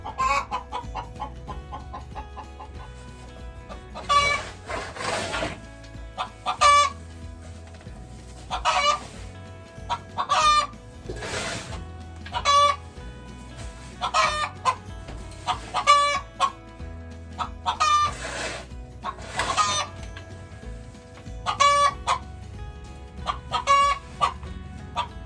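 Hens clucking inside a coop, with repeated close squawks and cackles coming in bursts over a steady murmur of fowl, while a rooster crows now and then.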